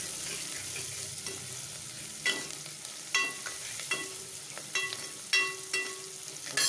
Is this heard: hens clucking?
no